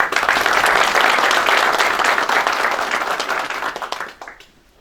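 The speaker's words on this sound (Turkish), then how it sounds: "Onları tekrar alkışlamanızı rica ediyorum." An audience applauds warmly in a hall, a dense, steady wash of clapping that holds for several seconds before thinning out and fading to near silence.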